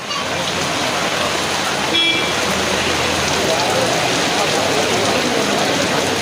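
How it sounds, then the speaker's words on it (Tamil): Heavy rain falls steadily in Dharmapuri during a thunderstorm, a dense, even roar that lasts throughout without a clear thunderclap. "இடி மின்னலுடன் கனமழை பெய்தது"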